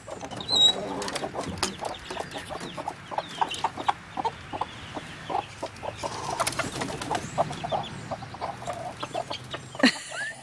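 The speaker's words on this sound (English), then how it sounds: "This is the flight of the chickens." Chickens cluck and squawk in bursts with sharp flurries of wing flaps, busy and close, as the flock scrambles out over several seconds.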